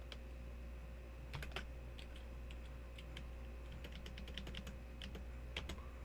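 Quiet computer keyboard typing while entering code, with scattered light key clicks in short bursts over a steady low hum, some keystrokes clustered in quick runs.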